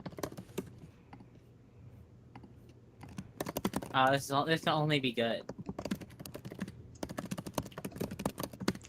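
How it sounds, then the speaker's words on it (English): Steady clicking of computer keyboard typing runs under a voice, with a burst of talk in the middle and quick tapping keys before and after. "By the way, we can hear you typing."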